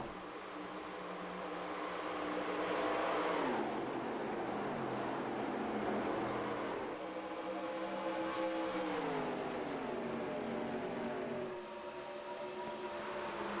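Next Gen stock cars racing side by side at Atlanta, a continuous engine roar that rises and shifts in pitch as cars pass, with no talk.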